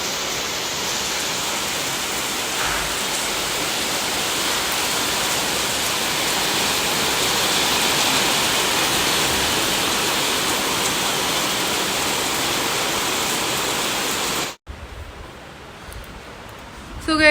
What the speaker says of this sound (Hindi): ऊपर से ये बारिश